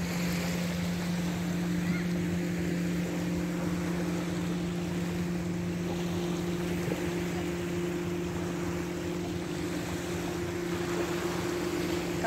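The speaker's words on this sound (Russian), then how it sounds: "Какие тут корабли большие ходят." Large ships pass on Lake Constance near a pebbly beach at Konstanz, a steady low engine drone carried over the water with wind and faint lapping.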